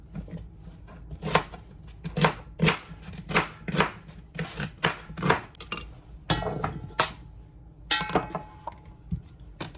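Celery stalks with their leaves being chopped for vegetable broth, a close series of sharp knife thuds on a board in an uneven rhythm, some strokes in quick bursts, with no talking.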